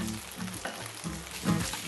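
Onions drop into a hot pan for Malaysian spicy tofu sambal and sizzle steadily. A louder burst of frying comes near the end, with no talk over it.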